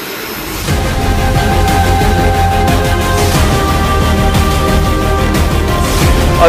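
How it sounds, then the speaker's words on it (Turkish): A Turkish aircraft engine starts up: a faint hum swells after a fraction of a second into a loud, steady roar with a sustained tonal whine that holds to the end, with no voices. "Motor çalıştırma için serbest."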